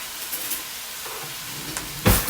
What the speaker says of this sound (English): I'm going to turn my turkey down just a little bit because it's sizzling pretty good